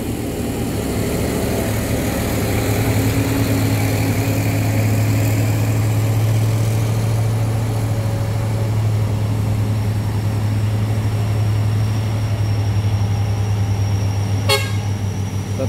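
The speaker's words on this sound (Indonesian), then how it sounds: "di sana truk Hino-nya mendaki" A Hino truck labours uphill, its engine holding a steady, loud low drone throughout, with a short horn toot near the end.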